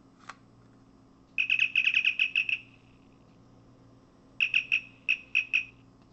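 A sharp click, then a Star Trek Deep Space Nine communicator replica prop gives two bursts of rapid electronic chirping, a fast trill followed by a slower run of beeps, close and clear over a faint hum.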